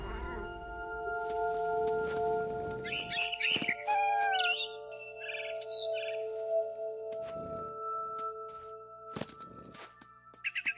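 A barn swallow chirps in What Remains of Edith Finch, with quick bright chirps in a short burst and then a few more later. Soft sustained musical tones play underneath.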